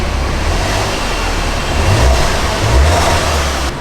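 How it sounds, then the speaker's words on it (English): Hyundai car engine running with a low, steady hum under broad road or wind noise, swelling slightly midway and holding smooth throughout. "See that engine note?"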